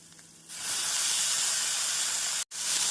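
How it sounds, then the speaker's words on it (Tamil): Cauliflower drops into a hot pan of frying onions. A quiet background gives way to a sudden loud burst of hissing sizzle that holds steady, broken once by a momentary cut near the end. "இப்பொழுது நாம் காலிஃப்ளவரை சேர்த்து விடலாம்."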